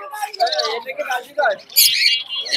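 Caged lovebirds, budgerigars and cockatiels at a bird and pigeon market in Khalishpur chirp and tweet in short bursts, close by and mixed with someone talking.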